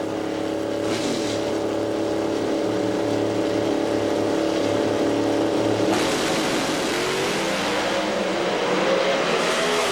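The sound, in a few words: drag racing cars launching down the track at NHRA race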